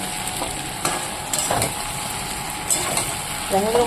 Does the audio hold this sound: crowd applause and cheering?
no